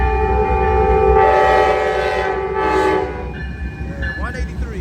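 Amtrak Coast Starlight Train 11 passing 98th Ave in Oakland, California, led by two P42DC locomotives, loud and close, with a long sustained horn blast through the pass before the rumble fades and a brief screech near the end.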